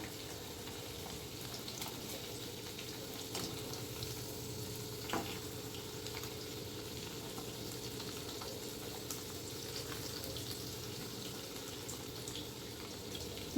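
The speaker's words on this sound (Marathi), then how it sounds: "तळून आपण सुरुवात थोडी मोठ्या गॅसवर केली आहे" A steady sizzle of potatoes frying in oil over high heat goes on for the whole stretch, soft and even, with a few faint clinks and no voices.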